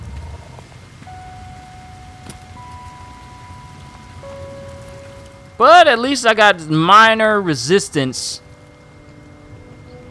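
Steady, soft rain hisses across a planet in the video game No Man's Sky, a constant low wash running beneath game tones, with a voice briefly talking over it partway through.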